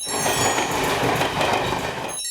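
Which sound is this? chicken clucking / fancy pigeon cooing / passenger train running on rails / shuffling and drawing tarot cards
passenger train running on rails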